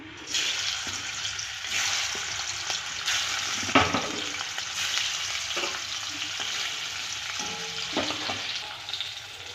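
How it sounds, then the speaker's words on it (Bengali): Rohu fish sizzles and crackles steadily in hot oil in a pan, a dense frying hiss with occasional scraping stirs, and no voices. "তেলটা গরম হয়ে গেছে। এবার মাছগুলো ভেজে নেব।"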